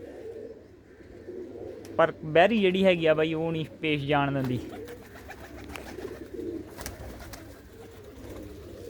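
Pigeons kept for rooftop perches coo in a few short, throaty bursts near the middle, mixed in with someone talking in Punjabi close by.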